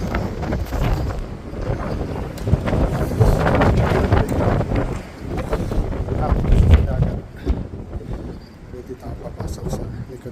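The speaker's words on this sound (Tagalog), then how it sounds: "sobrang lakas ng hangin" Strong, gusty wind outdoors in Niigata Prefecture, Japan, buffets the microphone with a loud, rumbling roar that surges and eases throughout, with faint voices and outdoor sounds underneath.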